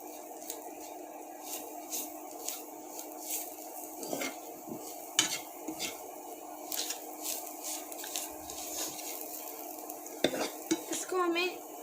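Onions and gram flour fry in a pan for onion kachori, with a steady close sizzle under intermittent scraping and stirring clinks, no talking.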